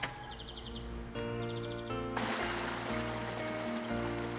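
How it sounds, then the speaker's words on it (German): A small brook babbles and splashes along a hiking path in the Lauer valley, a continuous close watery rush with a few faint high chirps early on. "Entlang eines fröhlich plätschernden Bächlein geht's weiter."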